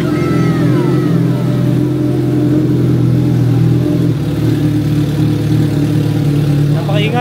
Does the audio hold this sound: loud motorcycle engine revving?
yes